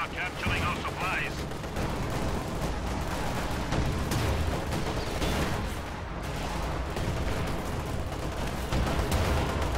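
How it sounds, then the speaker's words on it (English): Anti-tank gunfire from PaK-40 guns in a World War II strategy game battle, a dense, continuous barrage of shots and blasts filling the whole stretch at steady loudness, with a brief higher tone near the start. "that KV-8 going down very quick to anti-tank gunfire"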